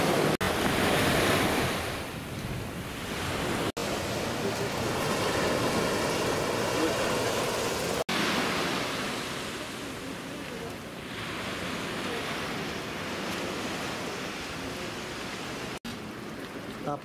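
Ocean surf rolls and washes continuously onto the Grande Plage at Biarritz, a broad roaring wash with gusts of wind buffeting the microphone.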